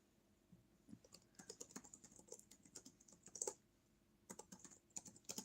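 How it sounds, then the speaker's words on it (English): Rapid bursts of typing on a computer keyboard, clicking keys in uneven clusters with short pauses between, close and fairly quiet. "Let me type it in the chat."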